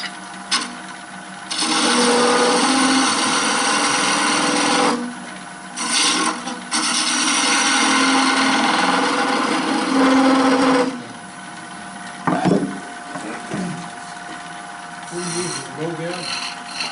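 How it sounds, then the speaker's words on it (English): Detail gouge cutting wood on a spinning lathe while turning a Christmas tree, a loud steady rasping scrape in long passes broken by brief pauses, close up with the lathe's hum beneath. "I was using my detail gouge there, Charlie."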